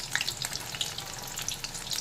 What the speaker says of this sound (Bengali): একদিক ভাজা হয়ে গেলে উল্টে দিচ্ছি।